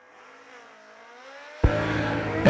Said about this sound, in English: Carpenter in the 75 Vegas station wagon, 605 dial-in. 589 for Colin Nash in the Kawasaki out of Orlando